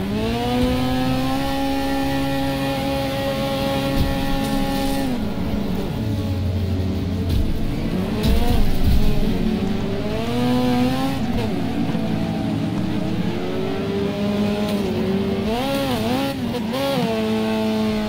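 Racing cars in the demolition derby game Wreckfest drone and rev continuously at close range, engine pitch sweeping up and down through gear changes, with occasional bumps of impact and no talking.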